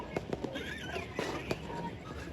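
Fireworks bursting on New Year's Eve, several sharp cracks and pops spaced irregularly at moderate distance, with crowd noise and voices talking over them.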